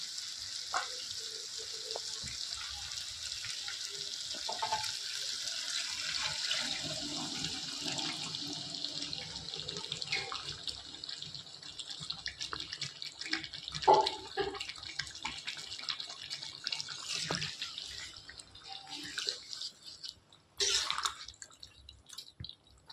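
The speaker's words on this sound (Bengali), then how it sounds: "এবার দিয়ে দেবো মাংসটা যে সিদ্ধ করছি সেই জলটা।" Meat boiling water is poured into a pan of mutton curry, giving a sustained hissing sizzle with watery splashing, loud at first and easing, with a few clinks and bubbling pops toward the end.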